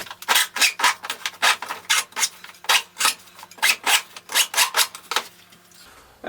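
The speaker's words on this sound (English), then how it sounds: "I grabbed a little wood rasp, and I'm just going to clean these edges up" A small wood rasp files the cut edges of a foam pool noodle being made into a catfish jug, producing about fifteen close, rhythmic scraping strokes, each a short bright rasp separated by brief pauses.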